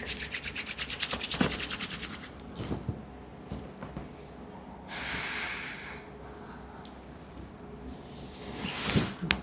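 Hands rubbing together in a quiet room, a soft dry rasping friction that comes in several bursts over a low steady background, with occasional breaths and a faint snort.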